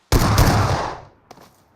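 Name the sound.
gunfire in a shooter video game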